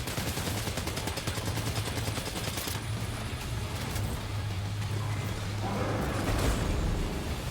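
An assault rifle fires steadily in Death Stranding 2, a continuous rattling stream of rapid shots under a low rumble that holds at a moderate level throughout.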